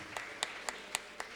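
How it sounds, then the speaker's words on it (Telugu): A congregation at a priestly ordination Mass claps in church, five distinct claps landing at a steady rhythm, fairly faint over a constant background hiss. "అందరం కళతాల హారతులతో గట్టిగా చప్పట్లు కొందాం"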